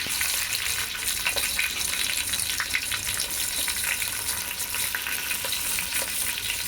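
Onion fries in a hot pan for vegetable rice, giving a steady, close crackling sizzle with faint stirring scrapes and no voices.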